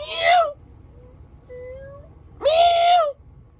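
A cat meows twice, loud and close, with a drawn-out yowl at each end and a faint, thin tone in the quiet gap between.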